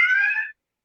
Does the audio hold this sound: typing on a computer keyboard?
no